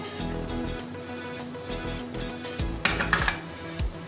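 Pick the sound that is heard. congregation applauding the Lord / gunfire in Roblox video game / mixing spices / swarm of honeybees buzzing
mixing spices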